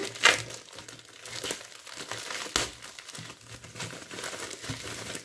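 Small parcels being unwrapped, with crinkling and rustling packaging in short irregular bursts, close and fairly soft, with no talking.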